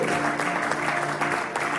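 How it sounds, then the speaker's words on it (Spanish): A church congregation claps steadily in a dense, sustained round of applause that stays even and close with no pauses. "hay una ofrenda de palmas al Señor que es para Él"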